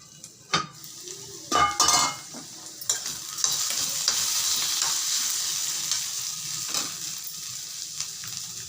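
Green chillies and ivy gourd sauté in a pan with a soft steady sizzle, broken by a few sharp clinks and scrapes of a spoon stirring against the metal, close and fairly quiet.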